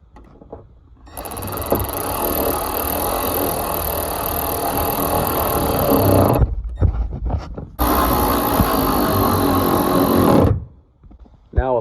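Nuts being snugged down on Boost Auto cab light mounts atop a 7.3 truck cab, a steady close mechanical whirring and ratcheting run with two short pauses, sounding like a power driver working the fasteners.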